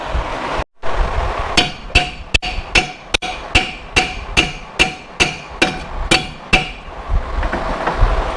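Metal hammer strikes on the brake assembly of a rare 60s muscle car during a disc brake conversion, about a dozen sharp, ringing blows at a steady rhythm, close and loud.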